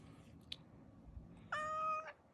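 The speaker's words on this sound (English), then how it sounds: "Oh, here comes a cat." A long-haired calico cat gives one clear, fairly close meow with rising harmonics, heard after a quiet room with a faint tap.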